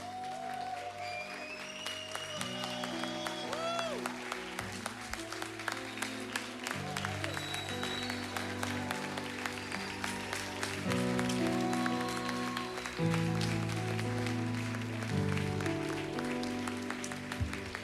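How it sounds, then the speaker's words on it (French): A standing church congregation applauds in dense, steady clapping that runs throughout, blended with sustained worship music. "J'aimerais qu'on puisse se tenir debout et acclamer la parole de Dieu"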